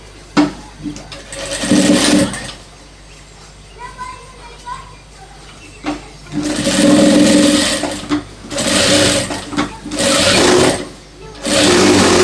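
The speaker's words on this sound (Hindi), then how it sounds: "इसकी भी पलटी कर लेंगे और इस पर भी सिलाई लगा लेंगे।" Sewing machine stitching gents' trousers, running in several loud bursts of a few seconds each with pauses between, while people talk in the quieter gaps.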